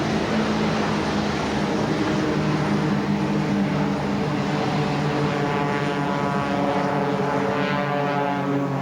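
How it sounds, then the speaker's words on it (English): Fletcher FU-24 topdresser, a propeller-driven agricultural plane, flies low over New Zealand farmland, its engine a loud, steady drone that holds throughout with a faint rising harmonic whine toward the end. "the Fletcher FU-24 top dressers and their pilots"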